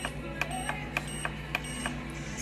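A crock pot timer beeps repeatedly as it is set, sharp, evenly spaced electronic chirps, near and clear over a steady low kitchen hum.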